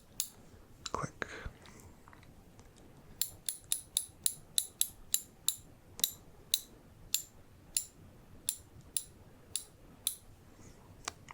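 Ratchet-like clicking in a kart mechanic roleplay comes as a run of crisp, evenly spaced clicks after a few scattered taps, close and quiet, with soft whispering in places.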